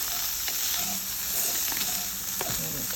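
Mushrooms fry in a pot of Viking porridge (grøt) while being stirred, a steady close sizzle with soft scraping stir strokes and small ticks, no talking.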